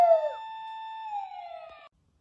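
A cartoon police car siren sounds one long, fairly faint tone that holds and then slowly falls before cutting off abruptly, with no voices.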